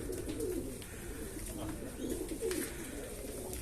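Domestic pigeons coo softly in a backyard coop, low murmuring calls repeating irregularly at close range over steady background noise, with no talk.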